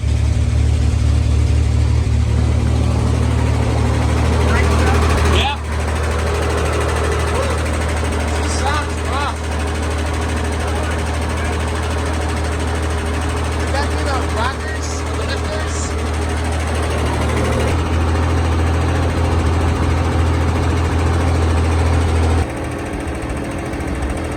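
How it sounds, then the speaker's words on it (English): An electric fuel pump on a 1969 Chevy Corvair Monza runs while priming the fuel lines, a loud, constant mechanical drone and buzz that holds for the whole stretch with a few abrupt shifts in level, under occasional talk. "But that electric pump's kicking it up fast."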